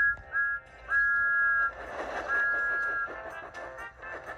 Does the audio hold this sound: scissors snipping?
no